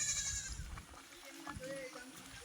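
A goat bleats briefly and faintly at the start as a village woman leads goats back from a field, followed by quiet outdoor ambience with a person speaking.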